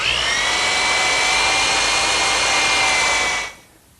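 A power drill boring a 1/4 inch pilot hole into wood for a hanger bolt on a turned bed post, a steady loud whine held for over three seconds before cutting off abruptly.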